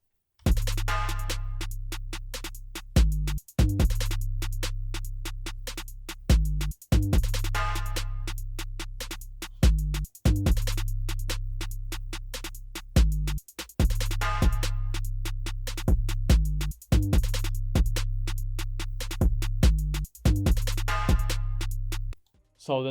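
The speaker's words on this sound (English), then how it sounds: "So after that, all the drums together sound like this." A hip-hop beat plays with deep 808 bass and kicks hitting together alongside crisp hi-hats and snares, a steady looping pattern of punchy booming hits with brief drops between bars, loud and alone.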